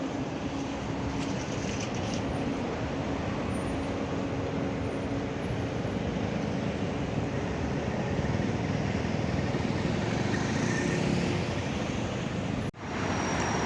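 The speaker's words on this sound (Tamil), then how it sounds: "டிராஃபிக்காக இருக்குது பார்த்தீங்களா?" Busy road traffic in Dubai, a steady broadband roar of passing vehicles that stays loud and continuous with no voices, ending in a brief drop near the close.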